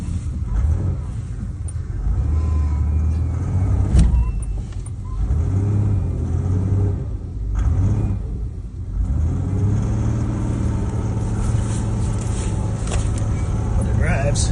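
An abandoned 1986 Ford Ranger pickup truck with brake trouble drives along, its engine a low rumbling hum that swells and eases as it moves, while someone talks over the cabin noise.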